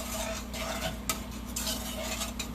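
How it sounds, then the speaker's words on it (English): Yellow dal being stirred in a pot, giving soft, steady scraping and light clinks of a spoon against the metal over a low cooking hum, with no one talking. "now all I have to do is just give it a nice mix"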